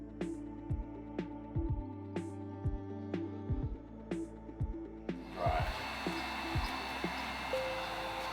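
A heat gun warms the double-sided tape holding trim on a Mustang GT. Quieter tonal sounds and clicks come first, then a steady, close blowing hiss starts about midway and runs to the end.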